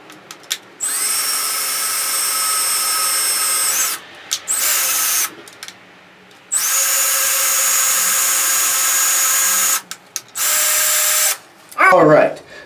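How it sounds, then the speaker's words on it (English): A power drill fitted with a tiny 1/16-inch bit bores screw holes for a diddley bow's machine head, running in several long loud bursts with brief pauses between them, close up, ending with a short clatter. "Going with that super small 1/16 of an inch bit again, because we have these really small threads on the screws."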